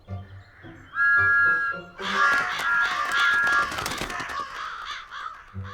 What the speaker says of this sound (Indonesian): Thomas meniup peluit keras dan lama